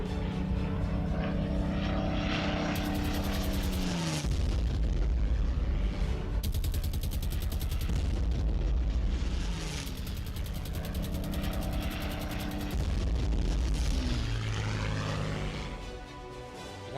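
Several WWII German Luftwaffe propeller planes fly past, a loud continuous droning roar with engine pitch sliding down as each aircraft passes, swelling and fading in waves without talk.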